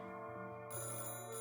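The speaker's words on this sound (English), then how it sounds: "The phone rings." A telephone rings in a horror video game, a steady electronic bell tone that sounds close and clear, with no voices.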